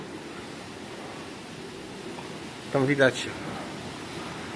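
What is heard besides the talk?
rough ocean surf during a cyclone, Mauritius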